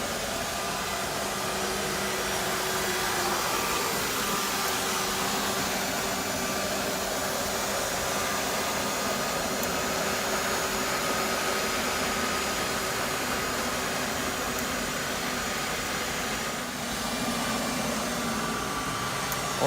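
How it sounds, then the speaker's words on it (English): An IPC CT90 floor scrubber's vacuum fan runs with a steady, loud, broadband whoosh that holds constant throughout without a break. "You can hear that the vacuum fan's turned on."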